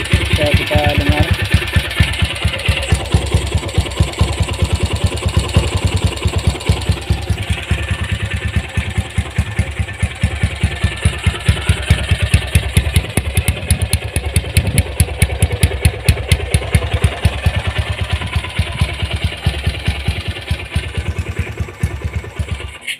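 A restored Honda GL series motorcycle engine running steadily at close range, a rapid even mechanical thrum with light clatter, with someone talking over it.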